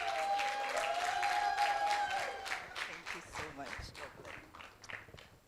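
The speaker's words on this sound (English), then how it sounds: "A huge round of applause." An audience at an alumni masterclass event claps for the evening's moderator, moderately loud applause that thins into scattered claps, with a sustained tone early on and a few footsteps.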